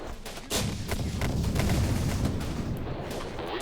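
Gunfire and artillery in the Syrian Warfare strategy game's Battle of Aleppo, a dense, continuous barrage of overlapping shots and booms that kicks in loudly after a brief quieter start.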